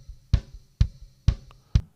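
Kick drum sample through the inside kick microphone: four punchy, deep thumps at a steady, even pulse, each with a sharp attack and a quick low decay, heard alone and up close.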